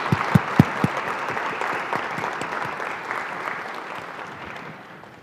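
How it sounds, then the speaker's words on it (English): Audience applause for panelists at a U.S.–Japan exchange symposium, dense clapping from a large crowd that opens with a few sharp close claps, then holds steady before gradually thinning and fading out. "So everybody, please give a big round of applause to our panelists."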